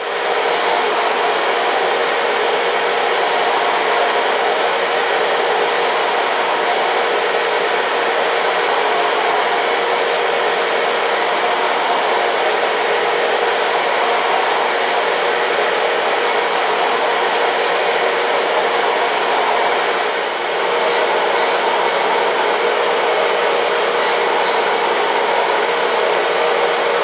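A surface grinder running steadily, with a loud, constant high whirring drone and broadband hiss that holds unbroken for nearly half a minute, close and alone with no voices.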